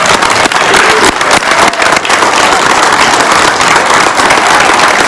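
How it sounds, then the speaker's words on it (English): A crowd at an Alaska campaign rally for Senator Dan Sullivan claps and cheers loudly for the Dean of the House, a dense, sustained wash of applause that fills the room without any pause. "how about a round of applause for the Dean of the House?"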